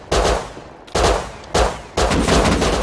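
Gunshots in the video game Rust, four loud close booming shots spaced roughly half a second apart, each with a rolling decay, the last one ringing on.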